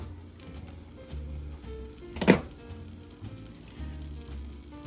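Butter frying in a Trangia 25 camp stove pan outdoors in the bush, a soft steady sizzle throughout with one brief louder burst of crackle midway, no voices.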